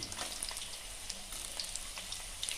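Small, thinly chopped potatoes fry in a hot pan for poha, a steady close sizzle with fine crackles and spits and no talking.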